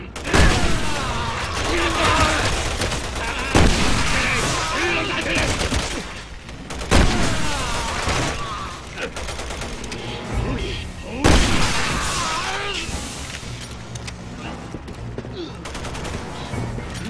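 Gunfire in the video game Resident Evil 6: repeated rapid bursts and volleys of shots with booming impacts, loud and close, mixed with voices and game sounds.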